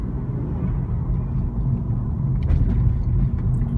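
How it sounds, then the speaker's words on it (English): A 2016 Honda Civic turbo fitted with a short ram intake, heard from inside with the windows up: a steady low engine and intake drone at low RPM, rising slightly toward the end, with no talk. "You can really hear that intake noise."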